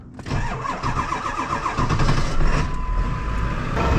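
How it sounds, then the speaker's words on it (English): A truck engine cranks and catches, then settles into a loud, rumbling idle close by. "fire this truck up"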